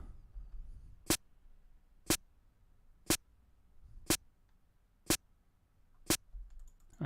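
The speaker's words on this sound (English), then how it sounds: "let's listen to just the snare by itself" Six sharp, evenly spaced snare hits fall about a second apart on beats two and four, crisp and isolated against a faint low background rumble, with no talking.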